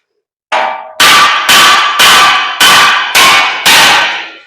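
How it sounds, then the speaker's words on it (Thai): A hammer strikes a cut steel piece six times in a slow, even rhythm to knock it loose. Each blow is a loud, close, ringing metallic clang that decays before the next. "แล้วเราใช้ค้อนเคาะดูว่ามันจะหลุดไหม"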